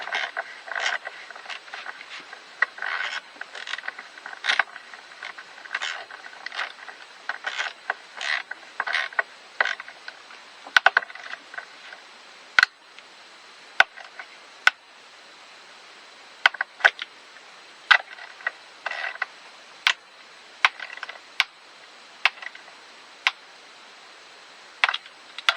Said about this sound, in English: So let's go ahead and torque these